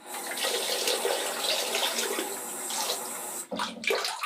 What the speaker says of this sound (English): just rinse it in under the tap